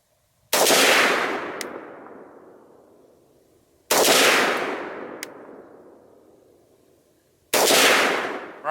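AR-15 with an A2 flash hider firing Hornady 50 grain VMAX varmint rounds made by Fiocchi at 25 yards, three loud, sharp single shots spaced a few seconds apart, each with a long fading echo.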